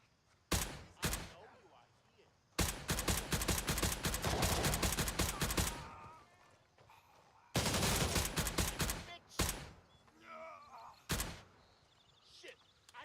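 Shooter video game gunfire rips in long sustained automatic bursts and a few single heavy shots, loud and close, with gaps between volleys and no clear speech.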